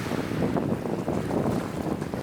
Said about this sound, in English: The Bora wind here can be especially fierce